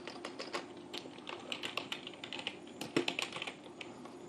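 Quick, steady typing on a computer keyboard while writing CSS code for a rotating card animation, a close run of light key clicks with a brief louder tap near the end.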